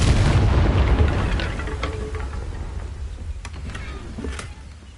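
Confringo blasting spell explosion in the Hogwarts Legacy video game, a heavy booming blast that rolls and fades over a few seconds, followed by faint ticks and crackles.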